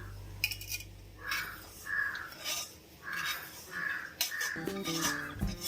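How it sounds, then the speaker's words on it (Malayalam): A crow caws repeatedly and loudly nearby, a series of harsh calls about once a second, with faint clinking of kitchen utensils underneath as roasted coconut is mixed into lentils. "ഒരു കാക്ക വന്നിരുന്ന് വല്ലാണ്ട് വിളിക്കുന്നു"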